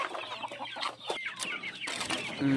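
Several Cebu heritage chickens cluck close by, a busy chorus of short clucks and calls with some rustling and farmyard background.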